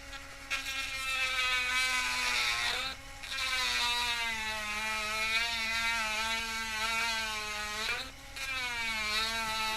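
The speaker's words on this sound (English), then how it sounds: "And just grind it." A power grinder cuts into a hubcap being made into a spinning rim, a close, loud, steady high-pitched whine that dips briefly twice as the load changes.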